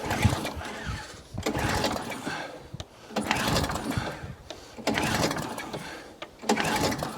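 An Atco Balmoral cylinder lawn mower being pull-started on choke: three or four rough, rattling cranking bursts of a couple of seconds each, separated by short pauses, close by and fairly loud, with no steady running engine between pulls.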